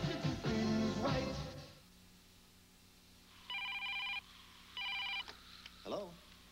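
A telephone in a TV advert rings twice in short electronic trilling bursts after a voice speaks, then another voice follows the rings; loud and clear against a quiet background.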